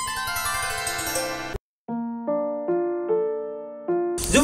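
A mobile phone ringtone plays loudly in a Nepali comedy short film scene. A melodic electronic tune is followed, after a brief silence, by a series of repeated chiming notes, with no voices.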